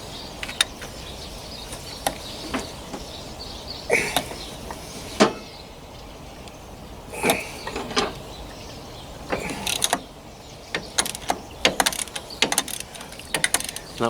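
Metal clicks and ratcheting taps come from a spanner undoing the starter motor bolts on a Massey Ferguson 135 tractor, arriving as irregular close knocks in a quiet workshop.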